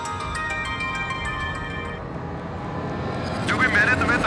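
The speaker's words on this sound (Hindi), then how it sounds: "फोन बज रहा, देख किसका फोन है।" A phone ringtone chimes in a repeating melodic pattern through the first half, with background noise and a voice speaking toward the end.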